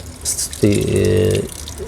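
Water poured gently over moina in a basin to rinse them, a soft splashing stream that swells in the middle and then tapers off, with brief trickles around it.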